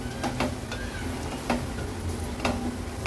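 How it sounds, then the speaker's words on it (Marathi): Dry coconut paste, turmeric and Agri Koli masala sautéing in oil in a pan, a low steady sizzle with regular scraping stir strokes and light clicks of the spatula. "हे सुकं खोबऱ्याचं वाटण, हळद, मसाला आणि सुकं खोबऱ्याचं वाटण तेलावर छान परतून घ्यायचं आहे"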